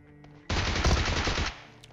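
A sustained burst of rapid automatic gunfire in PUBG Mobile, loud and close, running for about a second with no talk over it.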